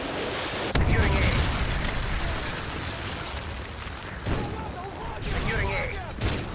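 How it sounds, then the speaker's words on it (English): A Predator missile strike blasts in a Modern Warfare 3 multiplayer match: a heavy, loud boom lands early, followed by further rumbling explosions, with game voices and battle noise mixed in. "Friendly Predator missile inbound"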